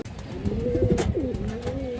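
Pet pigeons of an old show line coo softly nearby in a short, rolling burst of throaty calls over faint background noise.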